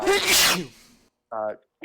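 One loud, sharp sneeze bursts out up close, followed by a short voice speaking briefly afterward.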